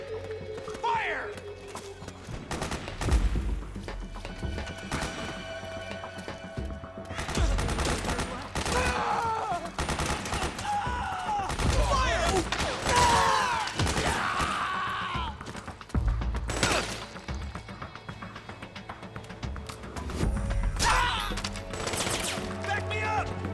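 Dense, sustained gunfire from the video game Metal Gear Solid 4, with rapid bursts and scattered shots in a chaotic battle, along with shouting voices and other game effects.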